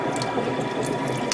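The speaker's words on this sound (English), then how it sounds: "all I have is the fan hitting behind it" A $300 hobby spray booth fan, labouring and near failure, clatters and rattles steadily at close range in a dense, continuous mechanical whir with no talk.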